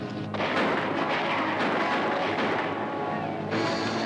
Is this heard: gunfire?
yes